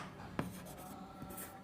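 Pen or marker writing notes during a Hindi lesson on units and measurement, a short scratchy stroke sounding near and fairly quiet, with faint background noise throughout.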